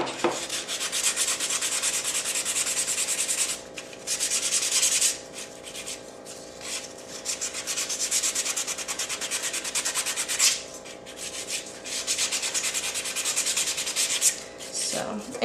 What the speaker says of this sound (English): you're just gonna sand these all around the whole thing, the edges, and give it a nice distressed look